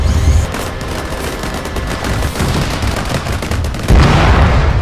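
A rapid, loud fusillade of close gunfire from a military unit after an order to fire, with dense repeated shots rattling continuously throughout.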